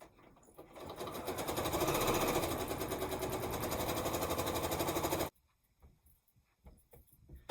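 Sewing machine stitching a row of quilt blocks together, a loud, steady mechanical whirr for about five seconds that then stops abruptly, leaving quiet handling noises.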